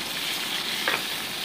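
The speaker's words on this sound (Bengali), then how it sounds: "দিয়ে হালকা একটু ভেজে নিচ্ছি আমি।" Cumin seeds and bitter gourd pieces frying in hot oil in a pan, a close, steady sizzling hiss with a brief brighter crackle partway through.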